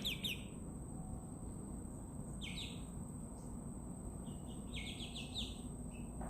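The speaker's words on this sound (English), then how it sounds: "Such a happy little bird, yeah." A pet chick chirps in short, bright peeps, a few scattered calls over a steady low background hum, fairly faint and with no talking.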